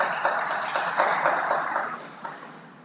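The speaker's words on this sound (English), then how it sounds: "Please give applause to today's event." Audience applause at a guest lecture on One Health, a dense wash of clapping hands from a room full of listeners, steady and fairly loud before thinning out toward the end.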